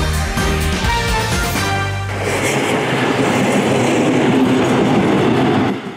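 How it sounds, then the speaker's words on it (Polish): Trams roll over new tracks on Sobieskiego Street in Sosnowiec, very loud and close: a whining, grinding passage with metallic tones gives way to a broad roaring rumble of wheels on rail, with no voices. "Tramwaje na ulicy Sobieskiego w Sosnowcu są wyjątkowo głośne."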